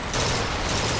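Rapid gunfire from a weapon in the video game BioShock Infinite, a dense, loud burst of overlapping shots filling the whole second with no pause.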